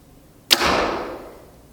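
A compound bow shoots an arrow in one sharp, solid release with a short, quiet whoosh that trails off over about a second, with no talking.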